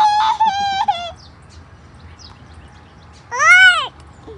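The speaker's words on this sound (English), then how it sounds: "There's a chicken right there." Chickens cluck outdoors at a family Easter gathering: a quick series of calls at the start, a quiet gap, then one louder drawn-out call, with no talking.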